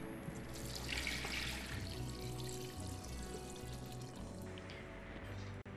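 One liter of water runs steadily into a slow cooker pot already holding chicken and herbs, a continuous close splashing pour that fills the whole stretch before cutting off abruptly near the end.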